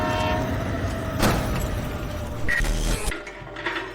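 A train rumbles closer with clanking, mechanical rail noise and a brief horn-like tone, then the sound cuts off abruptly near the end.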